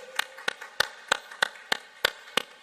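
A church congregation claps in praise at a Korean revival service, eight sharp, evenly spaced claps in a steady rhythm, fairly faint and with no talking over them.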